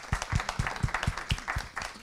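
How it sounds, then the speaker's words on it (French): Audience applause at an association's general assembly in a meeting hall: fairly close clapping with sharp, regular beats that form an even rhythm and continue steadily with no talking. "On peut applaudir."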